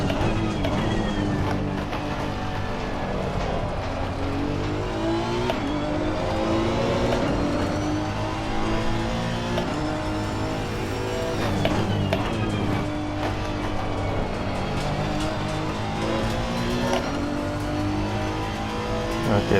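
A Honda NSX GT3 race car at Catalunya in the game Assetto Corsa Competizione, its engine loudly revving up and down through repeated gear changes and braking zones, a continuous close-up roar.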